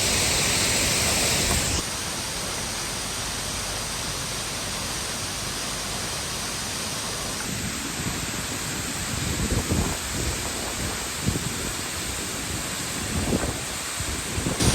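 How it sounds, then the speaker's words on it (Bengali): Amitabh Bachchan Falls pours down in a loud, continuous roar of falling water, heard close up with steady broadband rush and a few soft bumps of handling noise. "এই যে জলটা দেখছেন পড়ছে"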